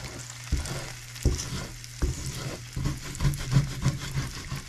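Food sticking and sizzling in an overheated cast iron pan, a loud continuous fry close by, broken by repeated scraping and stirring strokes at irregular intervals.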